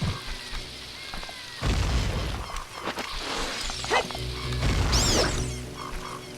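A bomb goes off in The Legend of Zelda: Ocarina of Time, giving two heavy booming bursts with a crashing, shattering edge. Quieter game effects fill the gaps between them.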